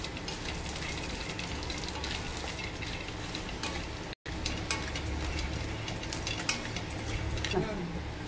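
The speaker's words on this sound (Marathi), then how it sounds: "बदाम भाजून घेते आणि काजू पण एकदमच टाकलेले आहे मी" Almonds and cashews dry-roasting in a pan for urad dal laddoos, with steady clattering and stirring scrapes, a faint sizzle, and a brief cut partway through, close and continuous.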